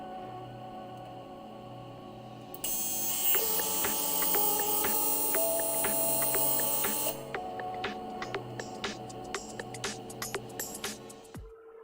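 TIG welding on an R34 catch can, a steady electrical hum and buzz that jumps louder when the arc strikes, with rapid ticking pulses through the weld before it cuts off near the end.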